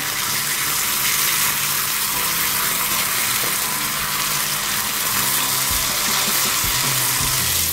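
Thin samosa wrappers fry in hot oil, giving a loud, continuous hiss and bubbling that fills the whole stretch without pause.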